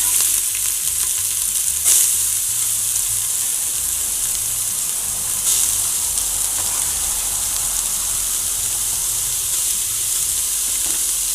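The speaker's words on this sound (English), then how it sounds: "So add the onions to the pot" Onions frying in a pot, a steady loud sizzle and hiss running throughout with a couple of brief stirring clatters, no talk.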